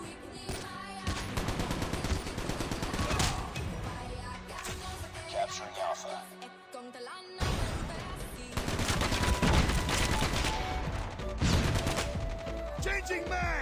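Rapid bursts of automatic fire from an ASM10 rifle in a video game, loud and close, with dense volleys, a short lull, then heavy firing again over other battlefield noise.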